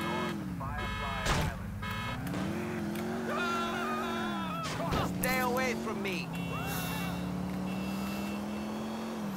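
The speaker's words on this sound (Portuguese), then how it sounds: "Eu tenho certeza que é uma BMW esse jogo, cara." A BMW driving in Grand Theft Auto 4 gives a steady engine drone that rises and falls as it revs, close and continuous under people talking.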